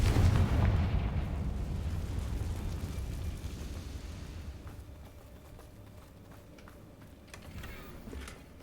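A heavy boom from the Confringo blasting spell in Hogwarts Legacy opens loud and deep, then decays into a long rumbling tail with faint crackles and clicks as it fades.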